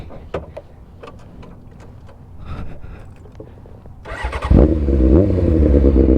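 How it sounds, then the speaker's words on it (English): A BMW M4 engine fires up partway through and settles into a loud, close idle with blips of revving, after a stretch of quieter clicks and mechanical rattles. "The M4 sounds beautiful."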